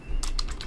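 Typing on a computer keyboard while coding, a quick burst of about four crisp key clicks in close succession, near and distinct over a quiet background.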